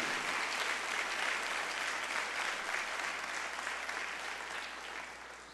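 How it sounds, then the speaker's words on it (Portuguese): A large church congregation applauds loudly and steadily, dense clapping filling the space and fading slightly toward the end. "Dê mais um aplauso para Jesus."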